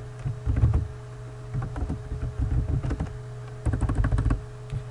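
Someone types on a computer keyboard in two quick bursts of close clicking keystrokes separated by a short pause, with no talking.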